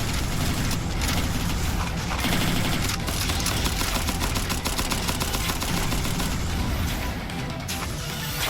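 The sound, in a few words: rocket fire in Cavalry Girls video game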